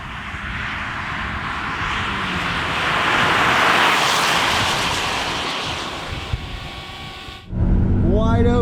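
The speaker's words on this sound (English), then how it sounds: "So here we go, back to full power, and it almost goes straight because it just roasts the tires" A 2021 Toyota RAV4 Prime at full power on a race track with wheel spin, a loud, roaring engine and tire noise that swells and holds steady, buffeted by wind, then cuts off abruptly as a voice begins talking.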